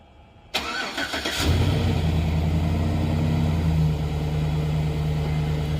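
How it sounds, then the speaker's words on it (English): A cold car engine is remote-started from a dead quiet: a short cranking burst, then it catches and settles into a loud, steady nearby idle with a low hum that holds to the end. "Remote start it."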